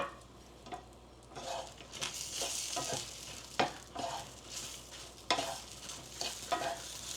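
Shishito peppers blistering in a hot pan give soft, scattered sizzling with irregular pops and crackles, plus faint scraping of stirring, all quiet and somewhat distant.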